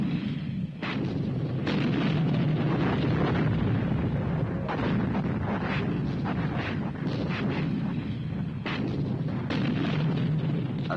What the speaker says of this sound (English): the German artillery directed a heavy barrage onto the town